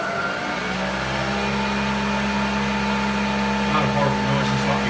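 A Bridgeport milling machine head runs in high gear at about 370 rpm, a steady close mechanical hum and whine with a smooth, even drone and no knocking, while a person talks over it.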